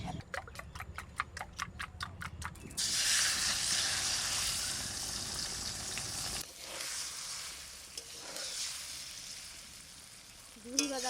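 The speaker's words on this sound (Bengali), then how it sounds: "এবার ডিমটা ভেজে নেব" An egg frying in a pan for a green tomato egg curry, with a steady, loud crackling sizzle that starts abruptly after a few seconds of soft ticking and carries on, easing slightly toward the end.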